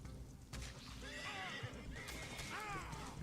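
Wild Mustang horse in Red Dead neighs in a run of high, wavering whinnies, with soft hoof clip-clops and faint ambient noise, quiet and without speech.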